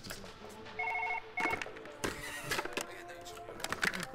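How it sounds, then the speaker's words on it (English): An old-style telephone bell rings in Surgeon Simulator 2013, two bursts of rapid metallic trilling, loud and close, over a low steady background hum. "Your phone's ringing."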